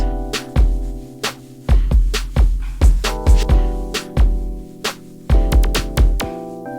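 A simple keyboard chord progression plays back from MIDI, with sustained chords struck in a steady, unhurried rhythm, clear and alone.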